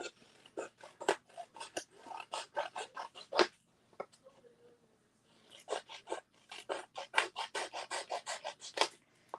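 Hands being rubbed against clothing to wipe off craft glue, a fast series of close, dry rasping strokes in two bursts separated by a brief quiet pause.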